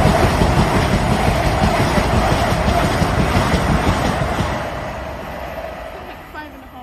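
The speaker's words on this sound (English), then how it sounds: "Trains coming in." A train pulls into Ealing Broadway station, a loud steady rumble of wheels and carriages with high squealing tones that slowly fades near the end, while a voice speaks over it.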